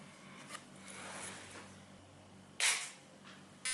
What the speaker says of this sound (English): We need to cut the stem from the threaded side.